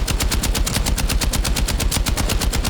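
Rapid automatic gunfire in the video game Battlefield 6, a loud, close, unbroken stream of evenly spaced shots with heavy low thump, sustained for the whole stretch.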